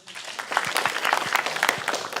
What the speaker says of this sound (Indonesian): Yuk tepuk tangan dulu buat Kompas.